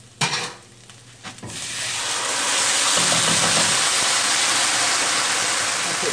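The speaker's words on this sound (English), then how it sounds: "you don't want your garlic to burn, and you don't want your ginger to burn, and you don't want your seeds to burn" Garlic, ginger and seeds fry in a pan for chana masala; a couple of sharp clinks open the clip, then a loud, steady hissing sizzle builds and holds close up.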